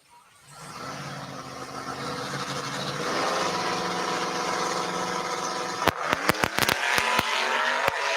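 Two heads-up drag race cars launching side by side down an eighth-mile strip, engines rising to a loud sustained roar that dominates, with sharp popping bursts in the second half.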